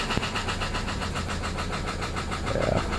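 A 2009 Subaru Forester engine idles with a heavy rod knock, a steady rhythmic thumping pulse heard up close. A brief change in pitch comes near the end.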